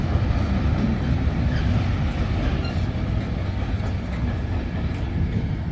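A Class 82 train passes through a platform at Stockport station with a loud, continuous rumble of wheels and motors that stays close and even from start to finish.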